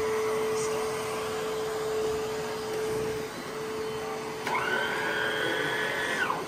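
Electrolux Sidekick handheld vacuum cleaner running with a steady high whine and airy motor drone, close and loud, its pitch shifting upward partway through as the load changes.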